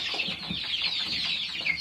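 Baby chicks peep while being handled during Newcastle vaccination and deworming, a dense, continuous high chirping held close and fairly quiet.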